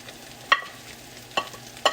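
Onions frying on a hibachi grill give a low, steady sizzle, broken by three short, sharp spatters or scrapes spaced unevenly, with no voices.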